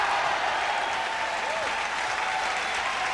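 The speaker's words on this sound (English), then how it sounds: "And the crowd love it." A crowd applauds at a 1993 men's Super Series Finals badminton match, a steady wash of clapping from a large audience that carries on throughout, with a faint tone drifting over it.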